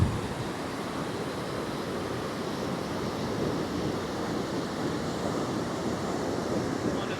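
Surf rolling onto a Pacific beach, a steady broadband wash of waves with wind rushing across the microphone, continuous and fairly loud with no talking.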